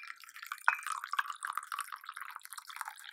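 Tea streams from a teapot into a teacup without a strainer, a soft, close trickle and patter of liquid with a few brief drips and splashes, quiet and continuous.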